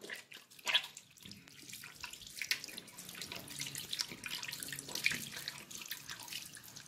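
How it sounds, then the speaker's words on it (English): A running tap pours a steady stream of water while hands are washed beneath it, with splashing and rubbing close by at a moderate level throughout. "now I am washing my hands"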